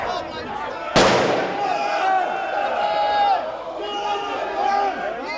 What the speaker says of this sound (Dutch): Maar ook op de weg daarnaartoe vanaf het Centraal Station wordt al volop vuurwerk afgestoken